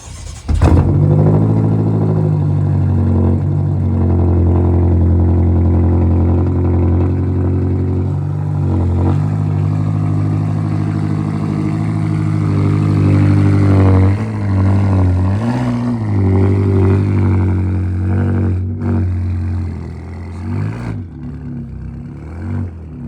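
A BMW M5 F10 V8 engine revs loudly and steadily, with rising and falling throttle blips over a sustained low rumble across about twenty seconds.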